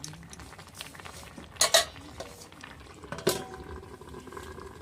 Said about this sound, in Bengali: নাড়া হয়ে গেছে, আমি আবার ঢেকে দেবো।